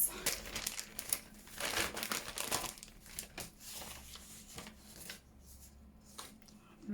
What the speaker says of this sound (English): So start by ripping down this side.